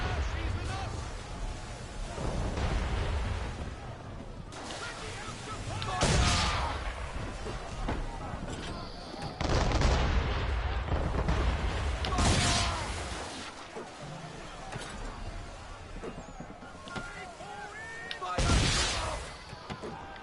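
Ships firing cannons in a naval battle in Assassin's Creed III, with several heavy booming blasts spaced seconds apart over a steady rumble of wind and water.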